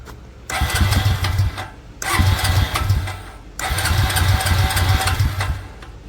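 Honda Rancher ATV engine cranking and catching, three bursts of loud, rough running separated by brief drops, close to the microphone.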